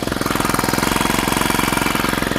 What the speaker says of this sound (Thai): ใช้ยังไงก็เหมือนเครื่องยนต์ปกติแต่ว่ามันจะแรงมากกว่าแบตเตอรี่เท่านั้นเองมันก็จะเหมาะสำหรับพ่นนาข้าว